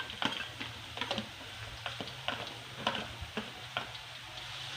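Garlic sautéing with onions in a pan for chicken biryani, giving a soft, steady sizzle with faint ticking stir sounds recurring quietly throughout.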